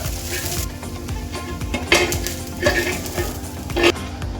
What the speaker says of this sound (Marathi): त्याच्यानंतर आपण कांदा परतून घेतोय